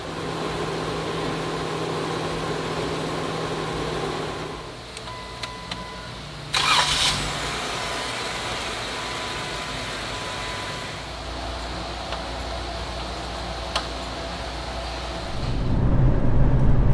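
A car engine stops, then cranks over and fires up, settling into a steady running rumble close by, with a brief clatter partway through and the engine rising in revs near the end.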